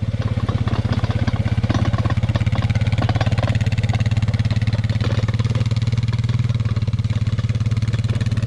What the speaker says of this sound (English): Now Bryce is coming through here on the ATV with the disc and discing it up